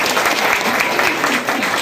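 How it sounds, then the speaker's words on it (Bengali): Audience at a martial arts gathering applauding for the ustad, a short burst of steady, dense clapping from many hands close by. "এজন্য উস্তাদের জন্য একটা হাততালি চাই"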